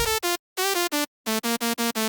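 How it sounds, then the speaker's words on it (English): Dry, unprocessed three-layer synth lead from a drum and bass drop, playing short choppy stabs in two bursts separated by silences, bright and buzzy, alone and close. "Leads without processing sounds like this."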